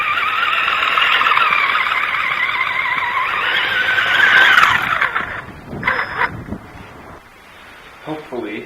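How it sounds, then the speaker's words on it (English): A slipping pinion gear on an RC car out in snow gives a loud, sustained high-pitched whine and grind for several seconds, then breaks off into a few short bursts before the clip settles quieter. "That's the pinion gear slipping again."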